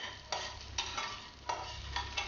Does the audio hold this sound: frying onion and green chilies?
yes